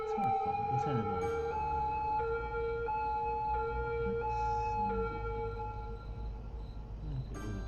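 Ambulance siren from the city-building video game Cities: Skylines, a loud electronic wail of steady tones stepping between pitches, running continuously for several seconds with faint game ambience beneath.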